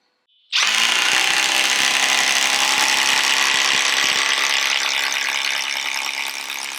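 A 12-volt impact driver spins up abruptly and drives an 8-inch timber lock screw in one continuous, loud, close whine with rapid hammering, its pitch slowly dropping as the screw seats.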